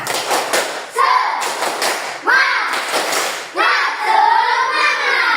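Children in a classroom do a rhythmic encouragement clap, bursts of patterned hand claps in three phrases, mixed with loud chanting voices.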